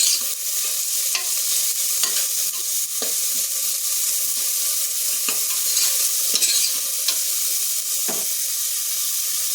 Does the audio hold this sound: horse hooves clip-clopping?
no